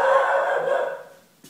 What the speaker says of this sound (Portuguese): Ei, cachorro latindo, que beleza.